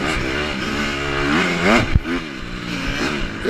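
A 150 dirt bike engine revs hard during a race, its pitch sweeping up and down through gear changes with a brief clattering hit midway, loud and close with no talk.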